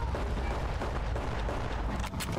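Gunfire in Fallout New Vegas rumbles as a dense, steady barrage of low booming shots, loud and continuous for a couple of seconds with no voices.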